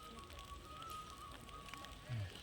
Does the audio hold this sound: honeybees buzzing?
no